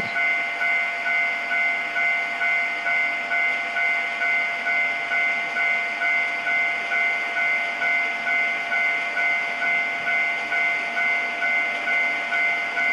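A freight train in the Trainz video game, led by an EF81 locomotive, rumbles steadily with a sustained horn-like tone over a rhythmic clatter, loud and continuous as it draws near a Japanese level crossing.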